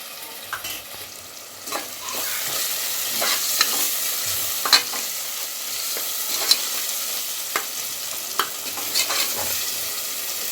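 Tomato pieces with coarse rock salt fry in a pan for goat head curry, a steady close sizzle broken by repeated scraping stirs of a spoon, with no one speaking.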